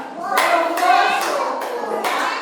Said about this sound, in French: Vous applaudissez pour Wamatoula.